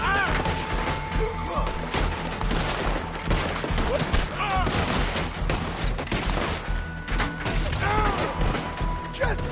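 Dense gunfire crackles through a Red Dead Redemption 2 shootout, with rapid overlapping rifle and pistol shots and heavy booms in a continuous barrage, while voices shout over the fighting.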